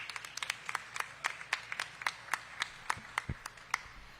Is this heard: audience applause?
yes